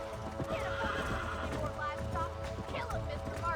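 A horse neighs and whinnies in Red Dead Redemption, loud and close over clopping hooves and game background, while voices talk at the same time.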